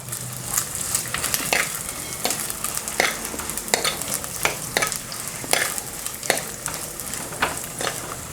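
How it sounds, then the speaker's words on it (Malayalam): Grated coconut stirred in a hot pan for Kerala-style kadala curry, a steady sizzle broken by repeated scraping strokes of a spoon, close and clear. "ഞാനിവിടെ 1/2 കപ്പോളം തേങ്ങ ചേർത്ത് കൊടുക്കുന്നുണ്ട്. ഇളക്കി കൊടുക്കാം."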